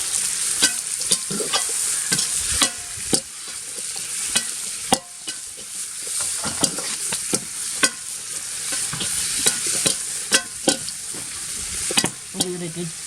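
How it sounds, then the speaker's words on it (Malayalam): Capsicum fries in a pan for an easy kuzhimanthi. A loud, constant sizzle runs throughout, broken by regular spatula scrapes and knocks as the pieces are stirred. "ആയിട്ടൊന്ന് ഇളക്കി കൊടുക്കാം."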